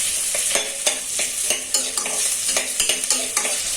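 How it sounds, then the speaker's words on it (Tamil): Onions drop into hot groundnut oil for a country chicken curry, a loud bright sizzle with repeated stirring scrapes of a spoon against the pan, up close and continuous. "எண்ணெய் காஞ்சதும் வெங்காயம் போடுறோம்"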